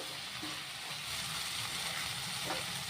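Fish curry sautés in a pan with a continuous, even frying hiss and faint scraping now and then as it cooks down. Nobody speaks.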